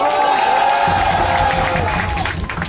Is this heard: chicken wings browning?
no